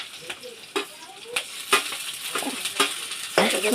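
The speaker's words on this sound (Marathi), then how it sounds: "कांदो टाकल्यानंतर लगेच मिरची टाकायची" Onion and green chilli hit hot oil in a pan and crackle loudly, with a dense close sizzle broken by sharp spatters and the scrape of stirring.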